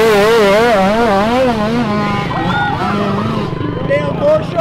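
A four-stroke KTM pit bike races nearby, its engine revving up and down in wavering, fast-rising pitches, loud and close, as voices shout and crowd chatter runs underneath.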